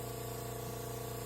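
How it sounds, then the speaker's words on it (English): A beginner's airbrush from a Master Airbrush system sprays a steady, even hiss onto a paper towel to flush out leftover color paint, heard close and continuous. "And then I spray on a paper towel"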